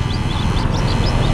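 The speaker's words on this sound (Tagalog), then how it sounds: "Ibon siya." Short, repeated high chirps from a bird with chicks, heard near a flooded catch site over a steady low background rumble.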